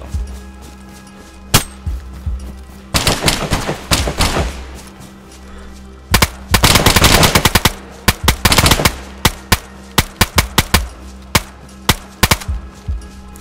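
Gunfire in the video game DayZ, with loud bursts of rapid automatic fire and a scatter of sharp single shots, close and punchy, some shots in quick volleys and others spaced out.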